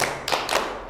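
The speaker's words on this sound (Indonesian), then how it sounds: "Oke, tepuk tiga." A few sharp hand claps in quick succession from a classroom group game, close and fairly loud, over a quiet room.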